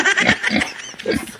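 Pigs on a farm grunt and squeal in a dense, close, continuous chorus of rough snorting calls.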